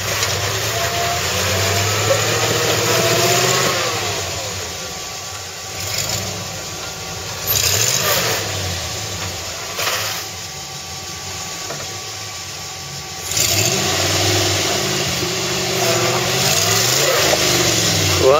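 Off-road truck engine idling and revving in bursts as it crawls over a rock lip, the rumble swelling and dropping several times, close and steady, with people talking faintly at times.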